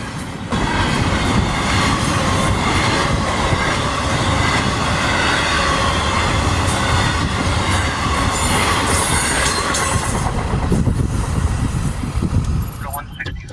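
A CSX freight train, M634, rumbles past steadily and loudly, wheels clattering and squealing on the rails for the whole stretch before fading at the end.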